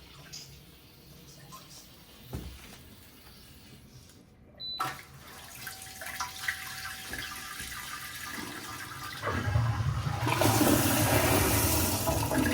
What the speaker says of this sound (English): Give it a half flush.